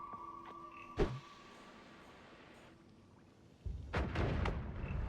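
An explosion from a bomb in the video game Noita: a sharp broadband blast near the start, a quieter stretch, then a loud sustained rumbling burst with crackling bangs toward the end.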